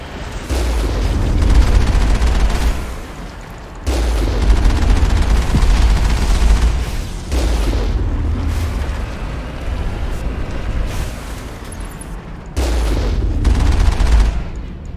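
Sustained gunfire in the Mass Effect 1 video game, dense rapid bursts of shots and booms in several long volleys separated by brief pauses, loud and close.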